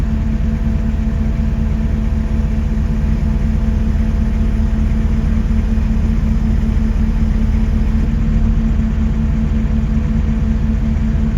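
A lifting machine's engine raises a roof truss during a barndominium build, running as a steady, loud, droning rumble with a constant idle-like tone throughout.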